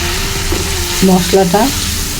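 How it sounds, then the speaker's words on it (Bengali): Spiced masala paste for a rohu fish curry sizzles in a pan after a splash of water, a steady close frying hiss with brief stirring scrapes and a few faint tonal clinks. "মশলা কষা হওয়ার জন্য একটু পানি দিয়ে নিলাম।"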